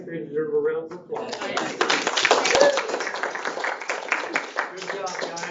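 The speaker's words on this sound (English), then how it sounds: "I think they deserve a round of applause" Audience applause at a board of education meeting, a short burst of clapping from a modest crowd following a spoken introduction, with scattered claps trailing off under renewed talk.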